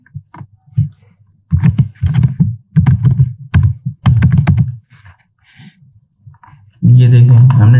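A computer keyboard tapped in quick, close bursts while entering text for a Facebook post design, the clatter broken by short pauses, with someone speaking briefly near the end.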